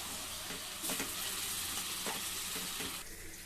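Chili powder, salt and coriander powder stirred into hot oil for a mutton liver soya curry, giving a dense, steady sizzle with a few sharper scraping strokes, close up and continuous.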